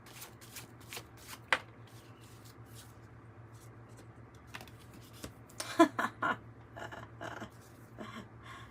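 Tarot cards are shuffled by hand in soft, intermittent riffles and taps, with a louder flurry of card snaps partway through, close up and with no talking.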